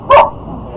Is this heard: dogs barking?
yes